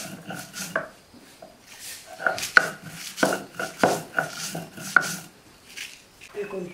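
Dry chillies, salt, garlic and onion ground by hand, repeated uneven scraping and knocking strokes at close range, with occasional sharper clacks between rubbing passes.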